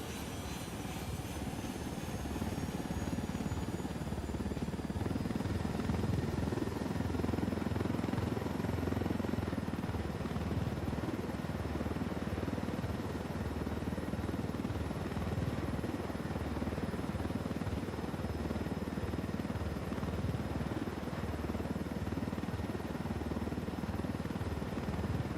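Helicopter in the video game Ghost Recon Wildlands, a steady loud rotor and turbine drone that holds continuously at close range throughout, with no talk over it.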